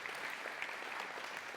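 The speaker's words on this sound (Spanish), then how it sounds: "Dese un aplauso porque usted ya se lo aprendió." A church congregation gives a round of applause during a sermon on prayer, a moderately soft, steady patter of many hands clapping throughout.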